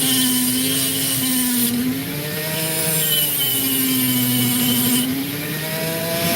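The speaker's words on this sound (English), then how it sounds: "I might carve off this section because it's already been rubbed." A rotary tool grinds into a piece of opal, carving off a section, with a steady loud whine that dips and rises in pitch as the load on the stone changes.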